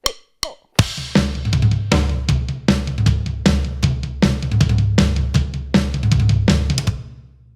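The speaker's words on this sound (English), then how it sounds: "This is the only tom groove you're gonna ever need." A tom groove played on a drum kit, with steady driving tom hits and cymbal wash after a few sparse opening strikes, loud and close, ending on a decaying ring.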